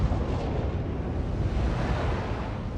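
Heavy cruiser Pensacola's naval guns roar in a warship battle game, a dense continuous rumble of booming blasts and explosions with no clear gaps, loud and close throughout.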